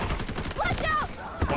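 Rapid automatic gunfire in the Delta Force video game, dense and continuous, with a voice talking over the shots.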